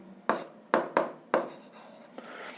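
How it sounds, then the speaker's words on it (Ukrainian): Pen strokes as someone writes an equation by hand on paper for a physics exercise: four or five quick scratchy strokes close up, quiet and separate, with no talk. "Я запишу, що ділимо на G."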